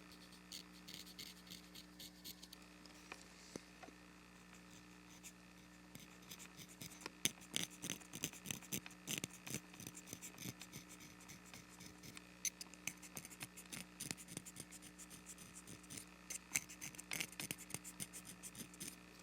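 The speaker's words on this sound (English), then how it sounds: "we're going to scrape right down in this region here" A knife blade scraping a cane double reed to shape its tone, heard as a close series of dry, rapid rasping strokes that grow denser and more rhythmic midway, alone and fairly quiet with no talking.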